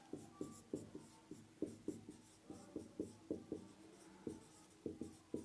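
A pen scratches across paper as notes on a p-n junction diode are written out by hand, giving quick rhythmic strokes with short pauses, close and quiet, with no talk.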